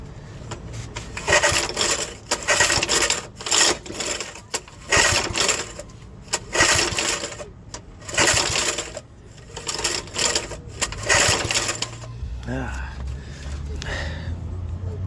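The recoil starter of a Briggs and Stratton rototiller engine gets pulled repeatedly, about a dozen rapid rasping pulls in bursts, close and loud, the engine not firing, followed by quieter handling noise.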